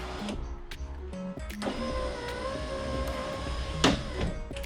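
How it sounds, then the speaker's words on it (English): An electric power window motor runs steadily in a car door, a continuous whirring hum with a brief clunk near the end, close and fairly loud with no talk. "that is a power window"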